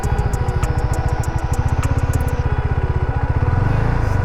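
Motorcycle engine held near the clutch biting point with light throttle, a loud close thumping idle that rises in pace as the throttle opens toward the end.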